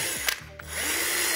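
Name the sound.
drill making small holes in plastic water jug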